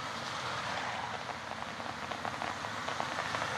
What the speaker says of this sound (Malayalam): മലപ്പുറത്തിന്റെ തീരദേശ മേഖലകളിൽ മഴ ശക്തമായി തുടരുകയാണ്